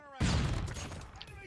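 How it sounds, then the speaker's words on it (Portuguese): A flashbang grenade goes off in Call of Duty Mobile, a sharp, loud bang that bursts in abruptly and trails off into a ringing wash over about a second. "Watch out! Flashbang! Flashbang! Turn around!"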